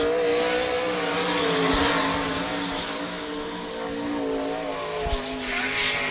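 Sprint car number 92 laps a dirt speedway at Sarver, Pennsylvania, during All Star Circuit of Champions racing, its loud high-revving engine roaring continuously near and fading slightly as it circles, with no talk.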